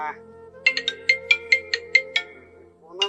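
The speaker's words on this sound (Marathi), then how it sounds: "कोणाचा फोन आला पाहू" A mobile phone ringtone chimes in a quick series of about ten bright electronic notes over a sustained tone, then trails off as another note begins.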